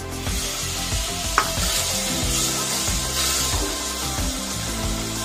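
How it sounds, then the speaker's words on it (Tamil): Thick tamarind extract, made from a gooseberry-sized piece of tamarind, goes into a frying spice masala for turkey berry tamarind gravy, giving a steady sizzle with stirring scrapes and one sharp clink, close and loud with no talking. "இப்போ நம்ம நெல்லிக்காய் சைஸ் புளி நல்லா திக்காக கரைச்சி வச்சதை ஊற்றிடலாம்."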